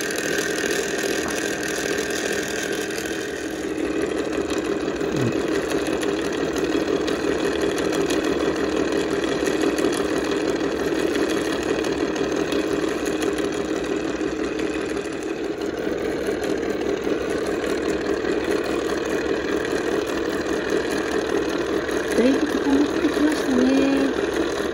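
A small Snoopy toy ice cream maker runs steadily, its motor giving a continuous mid-pitched whir and hum with a slight rattle, loud and close throughout without pause.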